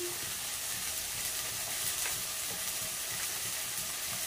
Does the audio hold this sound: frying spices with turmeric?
yes